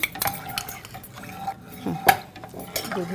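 A creamy mixture stirred in a bowl, with close clinks and scrapes of a utensil against the bowl in quick uneven strokes, no talking.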